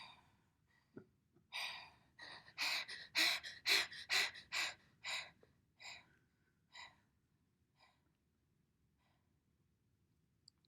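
A person vocally imitates Cheyne-Stokes respirations as dog-like panting: a run of about a dozen breathy gasps that builds to loud, rapid puffs, then fades into softer, more widely spaced breaths before stopping.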